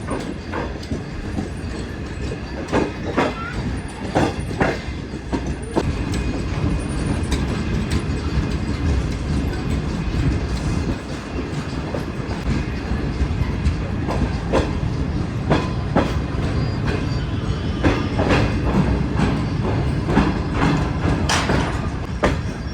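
Shah Hussain Express passenger train rolling along the rails on its approach to Faisalabad, a loud steady rumble with repeated clickety-clack wheel beats throughout.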